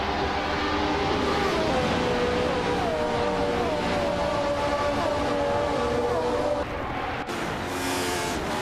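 Race cars roar through a race, a steady loud engine drone with a whining pitch that sweeps gradually downward, then shifts abruptly near the end.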